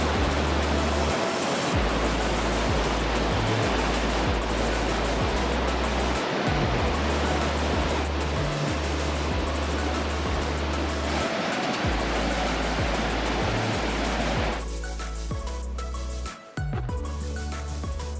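Tarawera Falls in New Zealand's Bay of Plenty, a constant loud roar of heavy falling water that fills the whole clip without a break and thins slightly near the end as a few faint clicks and movements come through.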